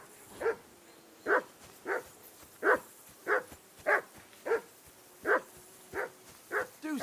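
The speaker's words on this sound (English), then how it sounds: "Call that dog, Henry. Who the hell can listen to that?" A dog in Kingdom Come: Deliverance 2 barks repeatedly at a steady, even pace. About a dozen moderately loud barks ring out over a faint background hum.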